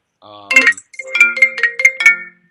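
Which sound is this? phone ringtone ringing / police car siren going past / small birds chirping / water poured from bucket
phone ringtone ringing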